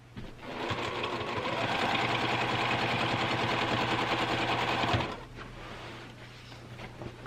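A sewing machine stitches continuously for about five seconds, quilting in the ditch along a quilt's diagonal, a fast steady mechanical chatter that stops abruptly, leaving a low hum.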